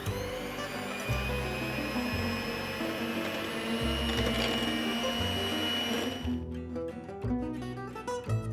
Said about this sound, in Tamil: க்ரீமை நல்லா பீட் பண்ணுங்க.